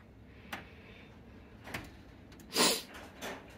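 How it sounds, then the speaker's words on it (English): A Husky 9-drawer tool chest drawer given a light push rolls shut on its own, a few soft slides and clicks ending in a louder metallic thunk, close in a quiet garage. "Now, you notice how the drawer is self-closing"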